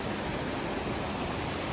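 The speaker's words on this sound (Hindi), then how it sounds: "एक झरना जो श्री ऊपर किन्नौर कैलाश से आ रहा है" A waterfall fed from Kinnaur Kailash crashes near a bridge, heard as a steady, loud, broadband roar of rushing water with no breaks and no voices.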